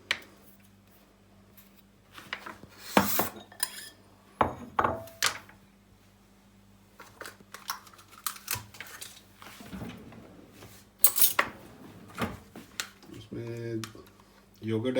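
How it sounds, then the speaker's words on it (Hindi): Garlic is chopped by hand with a knife on a board while making homemade pizza. The irregular, crisp taps and knocks come at uneven intervals over a low steady background hum. "थोड़ा सा हमने लहसुन ले लिया, उसके लिए इसको ऐसे हाथ से चॉप कर लें।"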